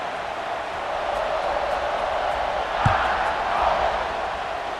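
A stadium crowd in a football video game murmurs steadily, a broad, continuous roar that swells slightly near the end with one brief thud partway through.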